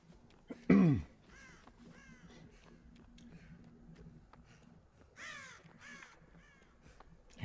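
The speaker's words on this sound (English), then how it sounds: "Hate those birds." Crows caw in several hoarse bursts spread over a few seconds, some nearer and louder, others fainter, over a low background hum with a brief heavy thump near the start.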